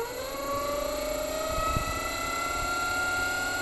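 A Monster Moto MM1000 electric motorbike's motor whines steadily as the throttle is twisted, a tonal hum rising slowly in pitch over a constant drone, close and moderately loud with no talk.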